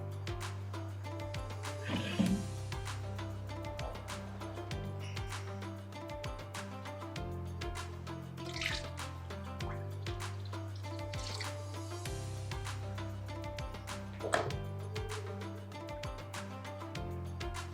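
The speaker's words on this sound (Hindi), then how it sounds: "पाणी बॉइल थी वियो आहे त हिन में चांवर ऐड करे था वठूं" Rice drops into a pot of boiling water while cooking chicken tikka biryani, with a steady bubbling rumble and scattered drips and splashes continuing throughout.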